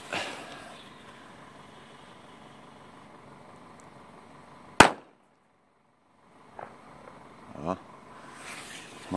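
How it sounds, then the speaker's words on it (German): A Nico Super Böller firecracker goes off in one sharp, loud bang midway through, cutting through steady outdoor background noise, followed by a brief quiet and a few scattered smaller sounds. "Mal ungefähr so laut wie ein D-Böller gewesen."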